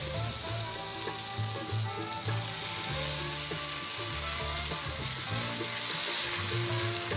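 Wheat flour pola batter sizzles steadily on a hot pan, a loud continuous frying hiss with scraping and clinking of utensils throughout, no voices.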